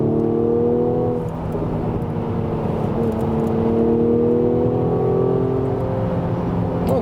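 A Mercedes-AMG GLC 43 SUV with a V6 engine pulls hard onto a motorway, its deep engine note rising steadily and loud from inside the cabin with no talking.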